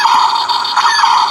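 A Star Wars TIE Fighter toy fires its blaster sound effect, a bright electronic tone that pulses rapidly in repeated bursts, loud and close, with no voices.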